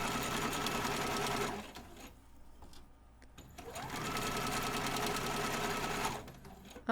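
A sewing machine stitches an inseam pocket along a 3/8 guideline: a loud, close, steady run of rapid stitching, pausing briefly in the middle, then resuming for a second long burst before stopping.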